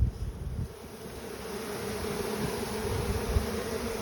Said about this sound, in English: So the last hive we're looking at is Digger's weak hive